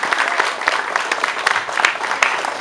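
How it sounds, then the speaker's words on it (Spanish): A crowd at a municipal mayor's event gives loud applause for standing supervisors, a thick roar of clapping with sharp individual claps popping out, sustained throughout. "Y les vamos a brindar un fuerte aplauso."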